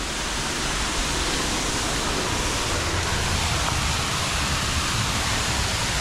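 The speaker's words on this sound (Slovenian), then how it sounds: "Evo, nad slapom." A waterfall in a gorge in Slovenia pours out a loud, unbroken broadband rush that fills the air for several seconds, close by and steady, with no voices above it.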